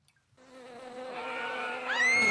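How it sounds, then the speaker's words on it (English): A bee buzzes close by with a steady, rising drone that grows louder and sharper in pitch toward the end, heard alone without talk. "Put the bee in a cup?"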